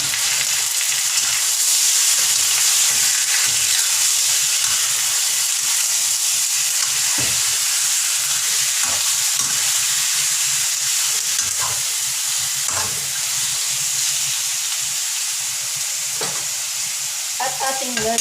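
Pork for humba hitting a hot pan and frying, a loud steady sizzle and hiss that fills the whole stretch, with occasional clanks of stirring over it, close up and without talk.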